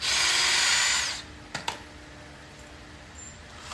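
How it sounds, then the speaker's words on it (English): A power drill bores a hole into a treated wooden outdoor porch chair, a loud close whine for about a second that stops abruptly, followed by a few light clicks and near quiet. "Then we're going to put a hole here."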